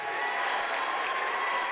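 Spectators at a high school basketball quarterfinal applaud the Mustangs' defense, giving a steady wash of clapping and crowd noise that fills a gym.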